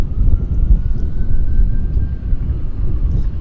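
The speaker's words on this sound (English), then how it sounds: "Let's get the Dreamliner here" A Boeing 787 Dreamliner airliner at Vancouver airport rumbles as a low, steady engine drone from some distance away, heard on its own with no voices.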